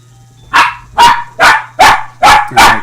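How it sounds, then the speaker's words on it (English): Dogs barking loudly and close, six sharp barks in a steady rhythm with no talking over them. "There we go, the dogs"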